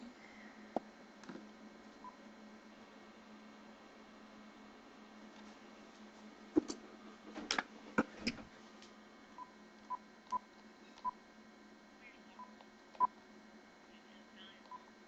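A telephone is dialed for a prank call, giving a quiet series of separate keypad tones spread across the stretch, several clustered near the middle and a few spaced out later, over a low steady hum with no talking.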